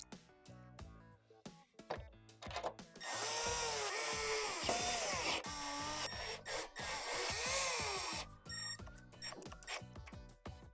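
A power screwdriver whines steadily while driving 1/4 screws into a Swash by Whirlpool blower motor assembly, two sustained runs in the middle, framed by clicks and handling noises before and after.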